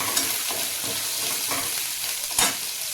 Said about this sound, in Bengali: কাঁচা লঙ্কা দিলাম